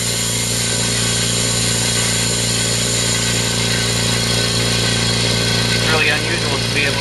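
A California Air Tools Ultra Quiet oil-free Syclone 6310 air compressor runs steadily while filling its tank, a constant motor hum with a faint hiss. A voice talks briefly near the end.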